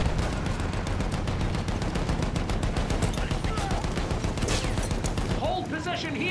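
Heavy machine gun fire on a Battlefield 1 battlefield: dense, rapid rattling bursts, loud and unbroken, with other gunfire and faint voices mixed into the din throughout.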